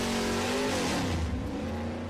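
A car engine in the video game Left 4 Dead 2 drones loudly and steadily, its pitch wavering slightly as it runs, with no voices over it.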